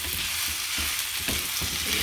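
Loud, close sizzling of thinly sliced onions frying in a pan, with rhythmic scraping strokes of stirring underneath.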